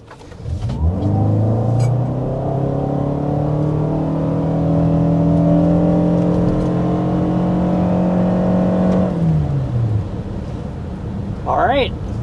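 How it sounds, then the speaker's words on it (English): A 2026 Toyota Sienna hybrid minivan under hard acceleration, a loud close engine drone rising steadily in pitch for several seconds, then easing off, heard from inside the cabin. "we need to start with a hard acceleration so you can see what the powertrain's all about"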